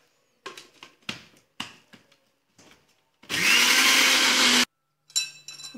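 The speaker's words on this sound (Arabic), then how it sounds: "ونطحن كلشي" A blender grinds a homemade hair oil mixture in one loud, steady burst of just over a second, with scattered clinks and handling noises around it.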